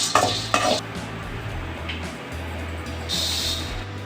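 Lentils roasting in a little oil in a pan over a low flame, a soft continuous sizzle broken by a few sharp scraping stirs near the start and a brighter hiss later, with a low hum underneath.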